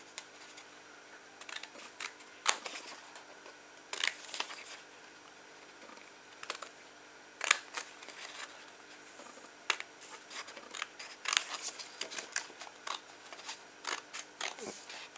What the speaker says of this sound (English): you can save some time by folding it in half first and then cut it out while it's folded